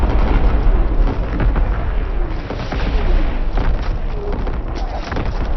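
Booming artillery barrage in a competitive military esports game, rolling continuous heavy thuds and blasts filling the whole span at a loud, dense level.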